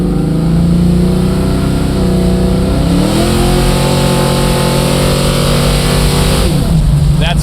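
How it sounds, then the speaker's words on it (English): A 1973 Ford Mustang 351 Mach 1 tribute accelerates at full throttle, its V8 roaring loudly and close with pitch climbing through a gear, a shift, then climbing again. "That's flooring it right there."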